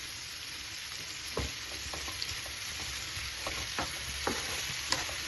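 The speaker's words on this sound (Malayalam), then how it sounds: "ഇനി സവോള അവിടെ കിടന്നൊന്ന് വഴന്ന് വരണം നല്ലപോലെ വഴന്ന് വരണം" Sliced onions sauté in oil in a pan for a Kerala-style chicken ularthu, with a steady, moderate sizzle broken by occasional scraping stirs of a spoon. No one speaks.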